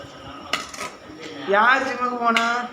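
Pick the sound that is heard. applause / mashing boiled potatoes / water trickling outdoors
mashing boiled potatoes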